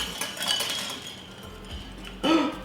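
An ice cube clinks and clatters against dishes in a kitchen where wine pie is being made, with a series of light close taps followed by a louder final clink.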